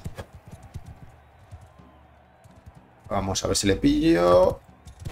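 Horse hooves in Mount and Blade II: Bannerlord, a faint, rapid clopping under low game ambience, then someone talking loudly over the action.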